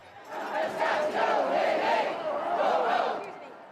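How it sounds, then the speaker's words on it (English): Protest crowd chanting in unison against deploying national troops, a loud, massed rhythmic chant with rising and falling shouts carrying steadily throughout. "Governor J.B. Pritzker joined the crowds in chanting, demanding the federal government not deploy national troops."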